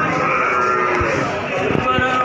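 Cattle at the Wonoasih cattle market in Probolinggo, Java, where young calves around eight months old are sold, give low moos over a steady crowd murmur, with voices talking nearby.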